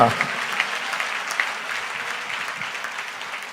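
Sustained, vigorous clapping from a church audience, a close and steady mass of hand claps that stays strong before easing slightly toward the end.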